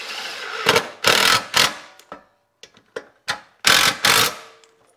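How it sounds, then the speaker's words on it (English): Impact driver sinking four screws into a wall-mounted bracket for a King Electric Eco2S+ electric heater in a garage, heard as several loud, close bursts of rattling hammering separated by short pauses. "using my impact, drive the 4 screws in there"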